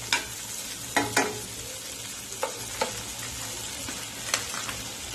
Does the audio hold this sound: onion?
yes